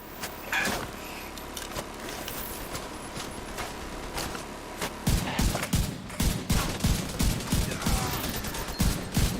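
Rapid video-game gunfire in The Division 2: a sparse spray of shots gives way to dense, rhythmic bursts of automatic fire, loud and close, in the second half.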